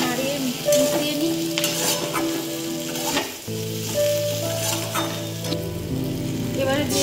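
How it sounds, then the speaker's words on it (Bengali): Turmeric and salt being stirred into food frying in a pan, a loud continuous sizzle with rhythmic spatula scrapes close by and a brief dip midway. "চলো এবার হলুদ আর নুনটা ভালো করে নাড়িয়ে মিশিয়ে নিই"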